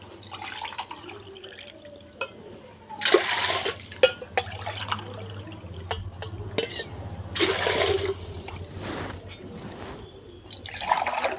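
Water pouring into a pot for ragi mudde, a steady running trickle with drips and a few louder bursts of splashing and clinking, close by and without talk.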